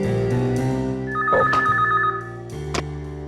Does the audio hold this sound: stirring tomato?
no